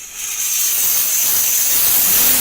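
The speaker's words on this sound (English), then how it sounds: "So we're going to start with the steam first." A Chief Steamer 125 PSI blasts steam at a car for bug removal, making a loud, sustained high-pitched hiss that starts abruptly and holds steady.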